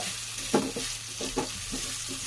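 Ginger garlic paste, made from ginger and a whole garlic bulb, fries in hot oil for chicken curry, a steady sizzle broken by a few scraping stirs of a spoon in the pan.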